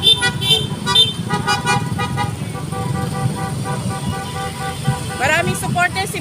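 A BBM political caravan of cars rolls past a store on the Bypass Road in Asingan, Pangasinan, with repeated car horns honking over a loud traffic rumble and voices talking throughout.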